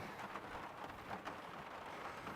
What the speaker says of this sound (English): It started to rain outside a little bit.